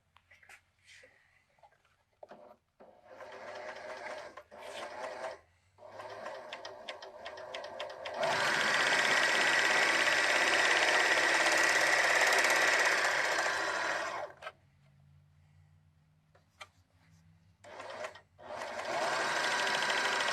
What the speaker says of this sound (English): Just going to finish those edges with the serger